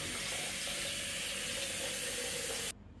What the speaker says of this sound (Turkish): Şimdi tekrar su ilave edeceğim.